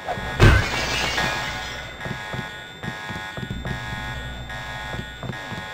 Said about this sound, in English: That alarm lasts for freaking ever, by the way.